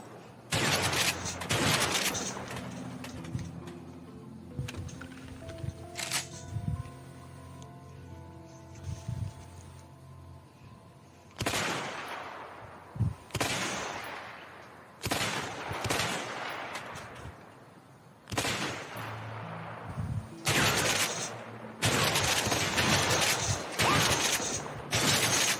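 Shotgun blasts in the video game A Way Out ring out as loud, sharp bursts at irregular intervals, with quieter tonal game sounds in the gaps between them.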